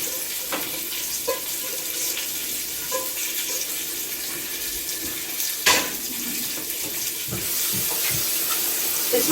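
Soaked dried beans being rinsed under a running cold-water tap in a kitchen sink, a steady broadband splashing and hiss with a few sharper clatters as the beans shift, close and fairly loud, with no talking.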